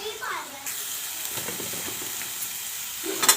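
Cut pumpkin pieces drop into a pan of golden-fried onions, giving a steady close sizzle with stirring and scraping clatter throughout and a brief louder rattle near the end; no speech.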